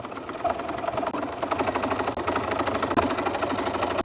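A sewing machine stitches along the seam and lining of a fantasy tabard costume, a rapid steady mechanical chatter of the needle running close and continuous, with a brief stutter midway.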